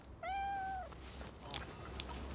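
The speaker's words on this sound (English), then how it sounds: "cat stuck up this tree" Cat stuck up a tree giving one clear, drawn-out meow, fairly faint against quiet outdoor background with a couple of small clicks afterward.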